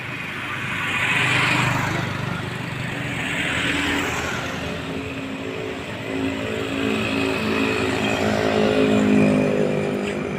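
Vehicles passing along a road, engine roars swelling and fading in several overlapping passes, moderately loud and continuous.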